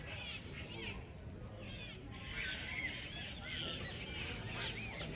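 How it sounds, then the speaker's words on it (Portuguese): Flock of birds squawking as they fly past at Iguaçu Falls, a steady chorus of overlapping shrill calls over the constant roar of the waterfall, moderately distant. "Olha a quantidade de pássaros passando aqui por mim."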